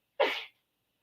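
A single sharp human sneeze, close and fairly loud, bursting out once and fading within half a second, with no talk around it.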